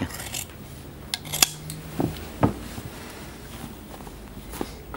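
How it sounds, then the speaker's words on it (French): Sharp metallic snips of scissors cutting fabric in a dressmaking setting, a few separate quiet clicks spread out and heard up close. "J'aime le bruit des ciseaux."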